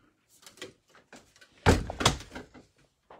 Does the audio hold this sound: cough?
no